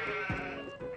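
A sheep bleats once with a rising, wavering cry, close and clear over a low background with no talk.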